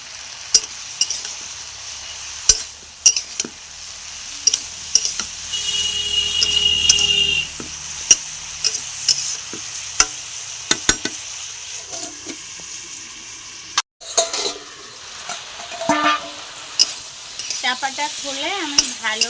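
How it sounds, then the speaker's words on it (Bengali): Vegetables seasoned with salt and turmeric are stirred in a pan, producing a quiet sizzle under repeated sharp spoon scrapes and clicks against the metal, with a clattering handling noise partway through. "লবণ হলুদ গুঁড়ো দিয়ে এবার একটু নাড়াচাড়া করে আমি চাপা দিয়ে দেবো"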